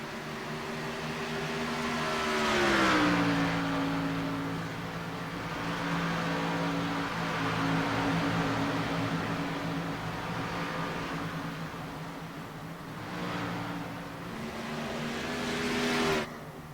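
Race cars lap the Texas track during NASCAR practice, a steady droning engine roar whose pitch rises and falls as cars accelerate and ease off, with a louder surge early on and another near the end.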